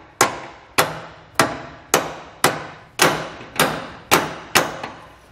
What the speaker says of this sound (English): you may have to kind of tap the head of the carriage bolt just to help it through a little bit